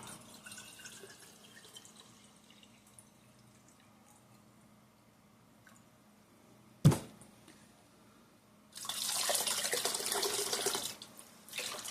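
Tap water runs in a sink as something is rinsed under it, a steady broadband rush starting late after quieter handling noises and a sharp knock.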